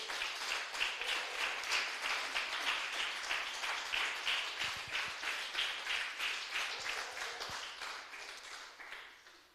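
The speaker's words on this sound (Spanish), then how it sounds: "Den un aplauso fuerte al Rey, aleluya." A church congregation applauding steadily, dense and sustained, with a pulsing rhythm of clapping that slowly fades toward the end.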